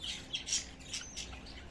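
A pet bird gives a few short, sharp squawks and chirps close by, bursting out in quick succession over a quiet background.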